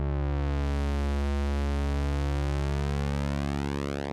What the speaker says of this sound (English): we get a big pulse wave modulation kind of sound